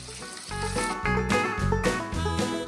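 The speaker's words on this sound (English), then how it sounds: "Now at this point, I'm adding a small onion, finely chopped." Finely chopped small onion hitting a pan where cashews are roasting, a moderate sizzle with clattering stirring and a few ringing tonal knocks, fairly close, no talk.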